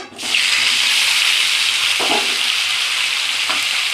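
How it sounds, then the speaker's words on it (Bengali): Potato and cauliflower pieces fry in hot oil, giving a loud, steady, hissing sizzle that fills the whole stretch after starting abruptly. A couple of faint utensil knocks sound underneath. "তেলের মধ্যে আলু ফুলকপিটা ভেজে নেব"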